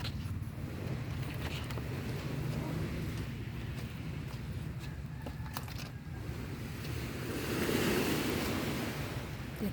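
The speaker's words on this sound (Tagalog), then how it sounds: "Dito ako sa tabing dagat." High-tide sea waves wash steadily onto the seashore in Antique, a continuous moderate surge of surf with wind, swelling louder near the end.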